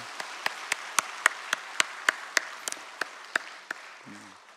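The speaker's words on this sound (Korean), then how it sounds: "다시 한번 귀한 찬양 하나님께 올려드린 장로님들께 감사의 박수 올려드립니다." A church congregation claps in thanks after a hymn by the elders at a special Thanksgiving dawn prayer service: a slow, sparse series of sharp, evenly spaced claps that fade out, with no talk over them.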